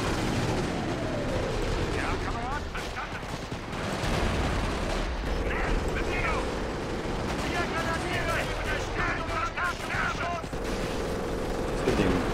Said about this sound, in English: So I'm going to use the artillery to protect my infantry advance.